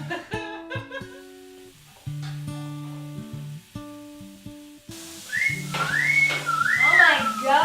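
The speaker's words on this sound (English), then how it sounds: "Doesn't look like I'm whistling. I'm whistling." A person whistles a bright, wavering melody, first in short clear notes and then in longer sliding phrases, close and fairly loud, with a bit of laughter and talk around it.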